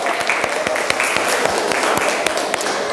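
Participants in a classroom game get a dense round of applause from a group, with many hands clapping continuously and loudly for the full few seconds.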